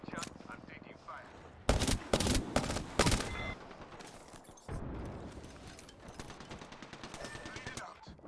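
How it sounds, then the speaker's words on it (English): Video game gunfire with several loud rapid bursts of shots close by, then a more distant rattle of fire continuing underneath. "I'm getting shot at. Reach out. I'm taking fire."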